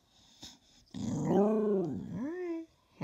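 A hound-type dog lets out a loud, drawn-out growling howl that bends up and down in pitch, with a brief faint sound beforehand and a second rising wail near the end, close to the listener.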